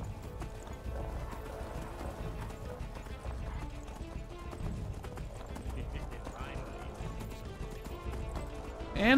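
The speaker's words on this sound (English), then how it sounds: "Should I call my horse?" A horse gallops continuously through Enderal game audio, hooves pounding close under a speaking voice, with a whinny breaking out near the end.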